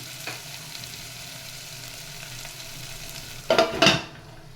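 Onions and drumstick pieces fry in a pan, a soft steady sizzle running underneath, then a brief burst of stirring and scraping near the end.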